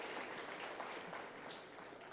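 An audience at a corporate tax seminar in the UAE applauding, a steady, fairly quiet, even patter of clapping throughout.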